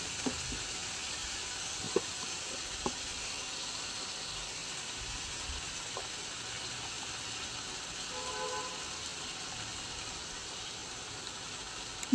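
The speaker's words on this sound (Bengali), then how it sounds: "এখন দিয়ে দিচ্ছি আমি 1 চামচ আদা রসুন বাটা। এটা একটু ভেজে নিব যাতে কাঁচা গন্ধটা চলে যায়।" Ginger garlic paste frying in a pan, a soft steady sizzle with a faint hiss and a few small clicks of a utensil, low and continuous throughout.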